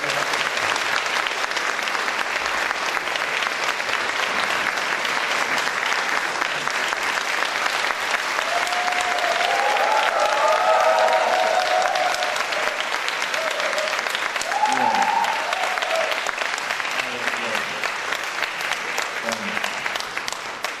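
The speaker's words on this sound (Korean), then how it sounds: "큰 박수와 환호를 부탁드립니다" Sustained audience applause and cheering at a Korean community forum lecture in Strathfield Town Hall, Sydney, welcoming the speaker; dense, steady clapping fills the hall for about twenty seconds with a few whoops rising above it.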